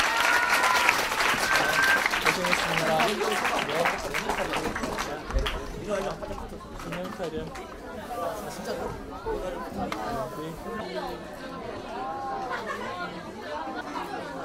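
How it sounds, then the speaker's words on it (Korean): Concert audience of sixth-graders and parents giving a big round of applause, dense clapping that is loudest at the start and thins into scattered claps mixed with crowd chatter and talking. "오늘 여러분들하고는 큰 박수로 감사합니다"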